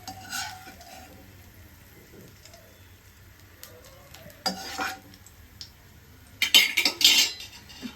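White sauce for pasta being stirred in a pan, with quiet scraping and occasional clinks of a utensil, and a few louder bursts of clattering and stirring toward the end over a faint low hum.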